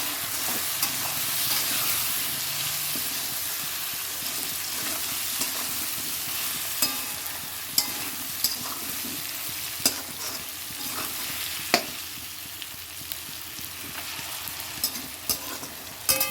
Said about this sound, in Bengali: আচ্ছা পেঁয়াজটা একটু ভাজা হয়ে যাচ্ছে বেশি